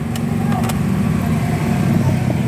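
A Hyundai Tucson engine hums steadily at a low, even idle from start to finish, close by, with no clear cut-off.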